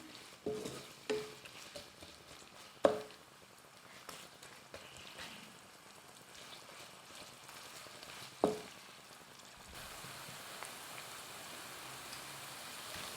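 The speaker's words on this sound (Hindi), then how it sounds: "प्याज थोड़ी सी ये इसमें फ्राई हो जाएगी ऑयल में" Chopped onion fries in oil with a faint, even sizzle, broken by two soft knocks of a utensil against the pan.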